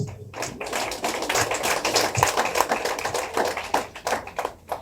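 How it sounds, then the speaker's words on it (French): A hall audience at a book event applauds the author with a dense, steady patter of clapping hands that rises and falls for several seconds. "Il faut l'applaudir."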